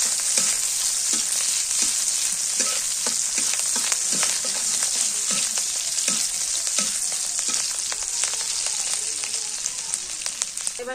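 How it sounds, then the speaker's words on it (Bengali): Garlic and green chillies fry in hot oil with a steady, dense sizzle and faint scattered crackles and pops throughout, close and fairly loud, with no voices. "রসুন আর কাঁচামরিচ দিয়ে দিই"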